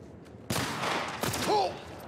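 A sudden burst of gunfire in The Last of Us Part I, a loud onset followed by a second shot, with a brief vocal exclamation near the end.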